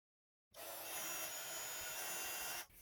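A heat tool blows a steady, loud broadband whoosh as it melts white embossing powder on a birthday card sentiment, starting abruptly after a brief silence and running evenly for about two seconds before cutting off.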